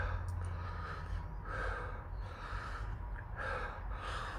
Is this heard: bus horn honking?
no